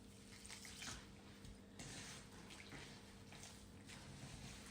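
Warm water from a kettle pours into pizza dough flour, a soft, continuous splashing trickle that runs steadily with slight surges, faint and close.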